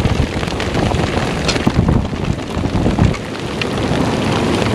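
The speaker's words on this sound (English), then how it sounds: "Oh yeah, now it's raining." Heavy rain pours down steadily on a river during a smallmouth bass fishing trip, a dense, loud hiss of drops on water and surfaces mixed with gusty wind buffeting the microphone.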